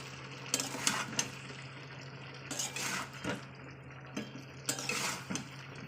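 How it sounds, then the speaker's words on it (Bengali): Spiced, salted chicken is sautéed in a pot, with soft sizzling under repeated scraping and clattering strokes of a spoon, fairly quiet and close, with no speech. "মশলা দেওয়ার পর আমি এটা ভালো কষিয়ে নেবো।"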